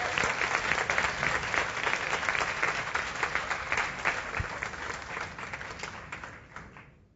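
A church congregation applauds during a sermon with a broad, sustained wash of clapping that holds steady and then tapers off at the end.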